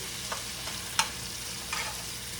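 Bitter gourd (ampalaya) stirred in a frying pan with oil, tomato, onion and garlic, giving a steady soft sizzle with a few sharp spatula scrapes against the pan.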